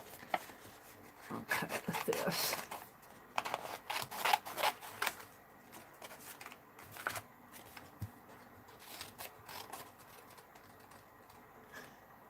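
Scissors snip through paper at a close-up craft table, a series of quick uneven cuts and rustles with quiet pauses between them, no talking.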